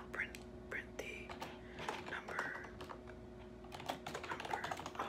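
Rapid, close computer keyboard typing while coding, crisp uneven clusters of keystrokes, with a soft whispered voice talking quietly under the clicks.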